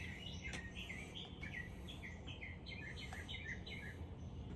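Several birds chirp and call in rapid, overlapping high tweets and short trills, moderately near, over a steady outdoor hiss with no talk.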